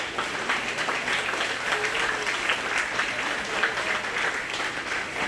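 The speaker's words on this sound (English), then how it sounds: "Let's give them a round of applause." Audience applause at the Greene County, Iowa county fair: a crowd claps continuously and evenly throughout, a thick, close, sustained patter with no voices rising above it.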